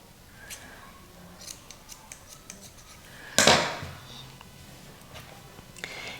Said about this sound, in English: first I'm going to cut roughly enough lace off. Ooh, those are my old scissors.